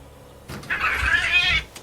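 A house cat lets out a single drawn-out, wavering meow lasting about a second, close and fairly loud, with no talking over it.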